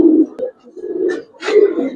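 A Giribaz pigeon coos softly in short, low, throaty bursts while held in the hand, with brief rustling between the calls.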